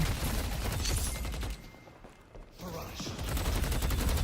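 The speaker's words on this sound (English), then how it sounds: "it feels good to have a full auto weapon, actually" Full-auto weapon gunfire in Deadlock, a hero shooter, rattling in sustained bursts that pause for about a second mid-clip before the rapid fire resumes, with faint game sounds underneath.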